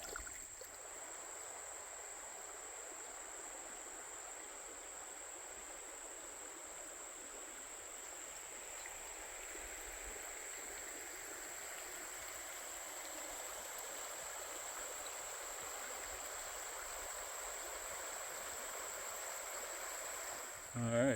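Creek water flowing steadily in the Red River Gorge, Kentucky, a soft, even rushing hiss that stays faint and constant throughout with no talk.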